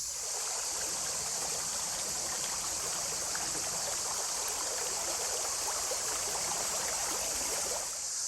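A river flows steadily in an outdoor natural setting on a hot day, its broad continuous rushing and babbling filling the whole span at an even, fairly loud level, with no voices over it.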